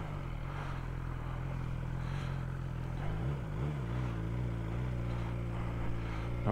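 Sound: motorcycle engine revving on throttle

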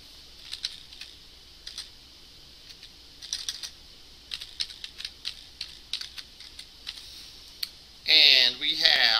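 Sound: typing on a computer keyboard

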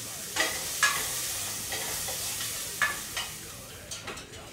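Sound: onion and garlic sauteing in melted butter for a roux

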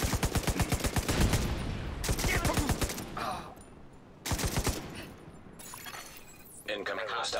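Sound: gunfire in video game The Division 2

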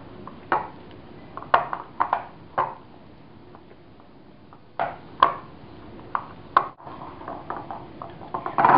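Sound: mixing ghevar batter of flour, gram flour and milk

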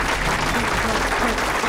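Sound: audience applause, clapping

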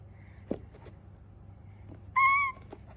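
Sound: child imitating a cat meow

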